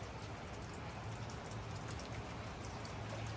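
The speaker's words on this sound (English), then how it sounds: "A bunch of rain." Steady rain falls at a Kentucky rock shelter dig site, a dense, even hiss of drops pattering on surfaces with no pauses and no talk.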